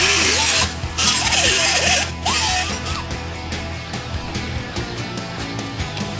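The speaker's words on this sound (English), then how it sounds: "I'll take this over to the bench and cut it off." A piece of DJ case material is cut off at a workbench, with loud, close, rasping cutting strokes in bursts followed by softer scraping and mechanical clicks.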